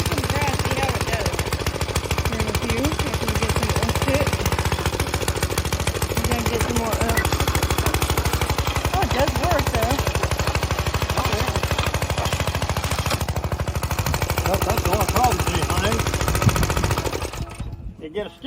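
Antique lawn mower engine running on grass, a loud continuous rapid chugging drone that holds steady for most of the clip before cutting off abruptly near the end.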